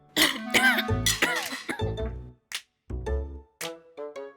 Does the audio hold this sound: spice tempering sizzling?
no